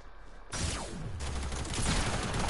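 Video-game shooter gunfire, likely from a new thermal assault rifle: after a quiet half second a loud burst of rapid shots erupts and keeps rattling densely to the end, close and harsh.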